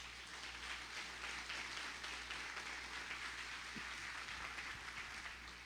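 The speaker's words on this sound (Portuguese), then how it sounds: "Aplauda bem forte ao Senhor." Church congregation applauding the Lord during a sermon, a steady dense wash of clapping from many hands that holds evenly throughout, fairly distant and moderately loud.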